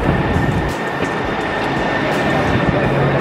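A subway train rumbles and hums continuously, with a steady rolling roar and a faint high whine, close by and without talking.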